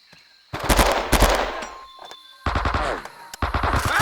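Dense bursts of automatic covering gunfire in the Vietnam war game Men of Valor, loud and close, coming in two long rattling volleys separated by a brief lull, then a third burst near the end.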